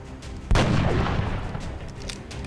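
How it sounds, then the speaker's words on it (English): A single loud sniper rifle shot in XCOM: Long War, a sharp close blast followed by a long rumbling tail that fades slowly. "Shay can open up fire on this guy."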